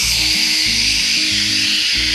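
A snake at a learning zoo gives a deep, raspy hiss like a rattlesnake's rattle, a continuous loud close hiss lasting the whole moment over a faint low hum.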